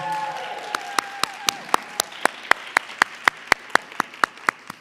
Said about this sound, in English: Can I get another round of applause, please, for all of our classroom champions?